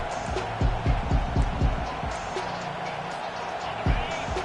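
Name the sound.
home crowd cheering in video game College Football 25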